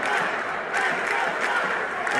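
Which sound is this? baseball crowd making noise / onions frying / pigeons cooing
baseball crowd making noise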